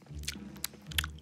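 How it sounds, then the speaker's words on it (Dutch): A sausage is bitten and chewed up close, with three distinct bursts of biting and mastication spread across a brief stretch and soft mouth sounds between them. No one speaks. "Hij neemt nog een hap."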